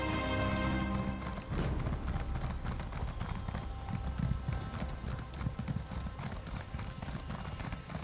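Horse hooves gallop in a steady, fast clip-clop rhythm inside a video game, loud and continuous over game music and ambience.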